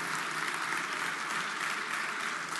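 Applause in the National Congress chamber during a public address: a steady, dense wash of many hands clapping, evenly loud and sustained throughout, with no voices over it.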